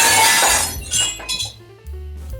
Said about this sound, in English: it has shattered into pieces that are precisely what I need to make a set of stairs